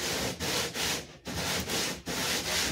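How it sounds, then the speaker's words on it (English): Sandpaper rubs between two wooden surfaces for a final fit while building a galley on a sharpie trailer yacht: steady, close back-and-forth rasping strokes in an even rhythm, about seven passes with brief gaps. "For the final fit, using a bit of sandpaper between the two surfaces is quite a good trick."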